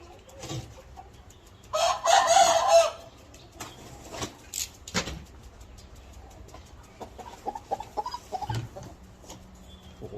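Chickens cluck in short, scattered bursts, with one longer loud crowing call near the start, fairly close in an otherwise quiet space.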